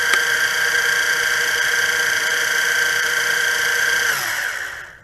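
The motors of a Syma X8SC quadcopter drone whine with a steady, high-pitched buzzing hum, close and loud, then wind down and cut off at the very end.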